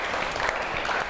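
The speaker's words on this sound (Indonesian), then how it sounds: "Bu, tepuk tangan dulu untuk Ryan." Students applauding in a high school classroom during a lesson, a short dense burst of clapping from many hands at moderate loudness.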